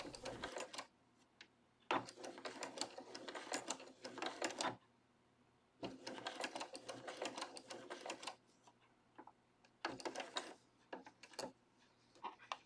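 A sewing machine stitches fabric in several quick, rhythmic bursts separated by short pauses, fairly quiet and close, with no talking.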